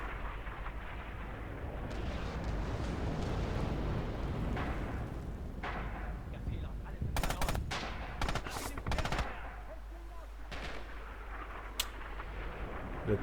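Artillery and gunfire in the World War II shooter Red Orchestra 2 during a league match: a constant distant rumble of shelling, with bursts of sharp machine-gun and rifle fire crackling in the middle and near the end.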